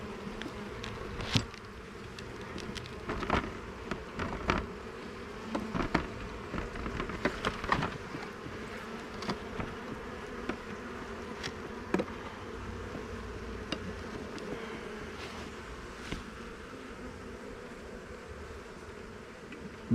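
Honey bees swarm and buzz around an open hive, a dense continuous drone with individual bees zipping close past now and then, steady throughout with no talking.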